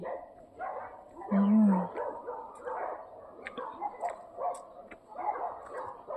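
Several dogs bark outdoors at a property near a military site, the barks mixed with people talking, a louder low call standing out around the middle.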